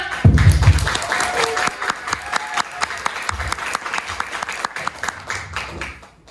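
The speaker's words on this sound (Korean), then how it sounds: "자, 그럼 우리 작가님 뜨거운 박수와 함께 환영해 주시죠" An audience gives a warm round of applause to welcome an artist at a meet-the-author event in a department store, a dense burst of clapping that starts loud and gradually thins out, with a voice briefly heard over it.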